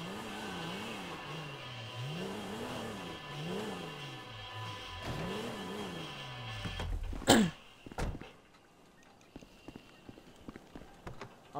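A car engine in GTA V hums and rises and falls in pitch as the vehicle drives, followed by a sharp scraping impact and quieter clattering afterward.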